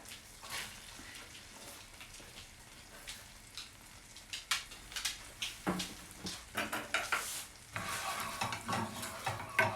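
Chopped onion going into melted butter in a pan, with soft sizzling and scattered scraping and stirring clatter that grows busier partway through, fairly quiet and close, no voices.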